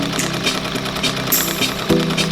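An embroidery machine stitches sandy glitter vinyl for an appliqué, giving a fast, steady mechanical chatter with a brief higher whir partway through. It sounds close and continuous, with no voices.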